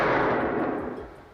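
A single film gunshot sound effect from the Cinesound library, used in a James Bond intro: one sharp, loud crack that rolls into a long, fading echo.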